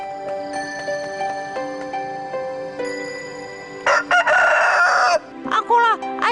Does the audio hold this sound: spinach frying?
no